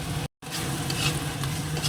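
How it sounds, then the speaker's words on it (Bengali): A spice masala is stir-fried in oil in a pan and gives a dense, close sizzle with scraping stirring strokes. The sound cuts out for a split second near the start. "তো এবার আবার একটু কষিয়ে তারপরে ধনে জিরের গুঁড়ো, হলুদ নুন সব পরে দেবো। এটা একটু ভাজা হয়ে যাবে"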